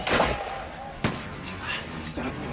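One sharp, close gunshot crack in a duel, a sudden loud bang that decays quickly amid light background voices and shuffling.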